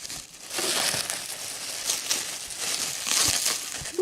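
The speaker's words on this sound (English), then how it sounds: "See if you can unwrap it." Packaging around a roughly 100-year-old Gilbert mantel clock being unwrapped: continuous crinkling and crumpling of wrap with rustling bursts and brief crunches over about four seconds, close and moderately loud.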